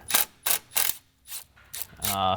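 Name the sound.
ratchet loosening 10mm nut on car power steering line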